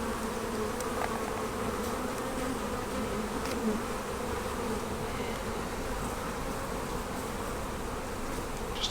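A dense swarm of honey bees buzzes steadily and close during a nuc transfer into a Maisemore commercial poly hive, a continuous humming drone with no pauses or talk.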